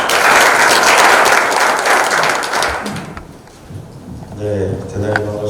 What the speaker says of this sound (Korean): 여러분 박수로 맞아주십시오.